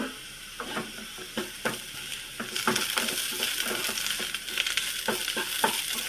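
Potatoes, onions and green chillies fry in a pan with a steady sizzle, broken by intermittent scraping and stirring clicks from a spatula, close and moderately loud with no talking.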